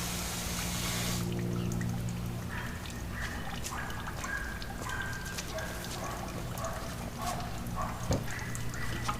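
Water from a hose splashes and pours in a steady, continuous rush. It starts loud and broad, then goes on as a wet trickling hiss with scattered splashes and a louder splat near the end.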